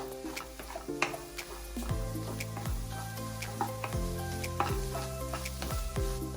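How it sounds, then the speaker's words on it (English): Beaten egg scrambles in a frying pan while making egg noodles, a soft close sizzle under a tonal music bed, with occasional light scraping of stirring. "Mix the egg well and make it into scrambled egg"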